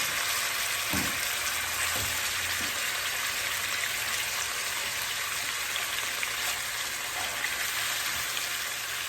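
Beef and bones sear in olive oil, giving a dense, even, rain-like sizzle that holds steady throughout, with a couple of faint low thumps early on.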